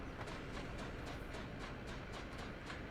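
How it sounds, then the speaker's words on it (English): Trains running in the factory-building game Satisfactory give a steady, dense rolling rumble with a regular clickety-clack of wheels on rail joints. The sound is continuous and fairly loud, with no speech. "There are trains."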